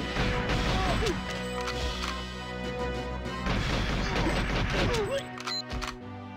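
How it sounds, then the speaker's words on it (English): Heavy shotgun fire in the GoldenEye video game comes as repeated crashing blasts over a dense, noisy game backdrop, with bursts clustered near the start and middle and a few sharp hits toward the end. "Those shotguns are pretty heavy."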